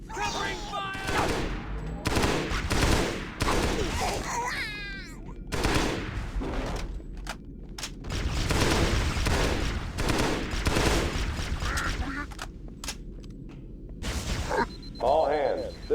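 Bursts of gunfire in the Halo CE SPV3 mod on the Pillar of Autumn, rapid volleys recurring across the clip under a busy mix of combat noise and voices shouting.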